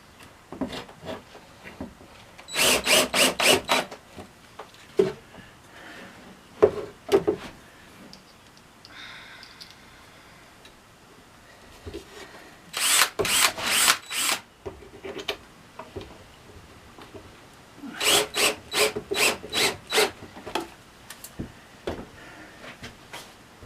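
Bursts of rapid back-and-forth sanding on a wooden round window part, three separate clusters of quick scratchy strokes separated by quieter handling and shuffling, close and moderately loud with no talking.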